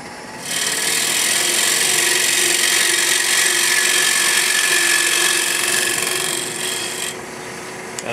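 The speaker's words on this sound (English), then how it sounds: "I'm going to go to something longer, and that's a skew, and I can just push right alongside of that wall." A skew chisel cuts along the wall of a spinning piece of wood on a lathe while a pin tray is being turned, a loud, steady hissing rasp that runs for about six seconds before easing off.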